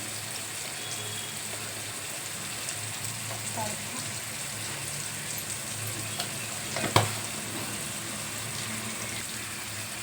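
A lentil stir-fry curry with turmeric and vegetables sizzles steadily in a pan while being stirred, with a soft, continuous frying hiss and one sharp scrape of the utensil partway through.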